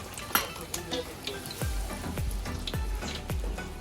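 Whole spices dropped into hot oil for a Kathiyawadi-style akni rice, crackling and sizzling in a steady close hiss with a run of sharp pops and spits, quiet and without talk.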